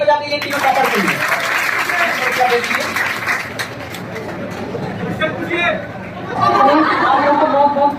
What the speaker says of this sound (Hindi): जोर से ताली बजा दीजिए तीनों टॉपर के लिए।